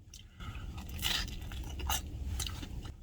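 Someone bites into and chews a crunchy slice of gluten-free Sicilian pizza. The crisp crust crackles in a few close bursts over steady chewing.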